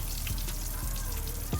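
Shrimp frying in hot oil for a bang bang shrimp dish, a dense, steady crackling sizzle heard up close with no talking.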